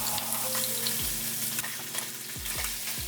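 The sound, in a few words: braciole meat sizzling and searing in hot pan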